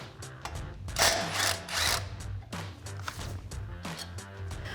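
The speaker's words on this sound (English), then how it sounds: "Grab a 12mm socket and get this bolt removed." Bolt on a brake line bracket at the steering knuckle of a 2005-2023 Toyota Tacoma being worked loose with a 12mm socket, giving a series of close, uneven bursts of ratcheting and metal clicks separated by short pauses.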